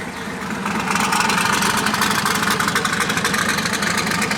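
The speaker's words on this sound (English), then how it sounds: "You guys gotta really love the good early morning cold start." A box body car with an LS engine cold-starts in the early morning, catching after a short crank and settling into a loud, throbbing, rhythmic idle with a lumpy low-end pulse, close by and uninterrupted.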